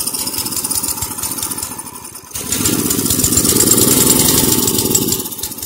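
A small 3 horsepower engine on a torque converter build runs steadily with a buzzing, mower-like drone, dipping briefly before revving up louder and holding a strong, even note. Close and alone, with no talk.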